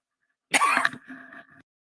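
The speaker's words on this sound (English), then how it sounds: "Excuse me, I had to cough" A single sharp cough, close and loud, followed by a brief rougher throat sound trailing off, then silence.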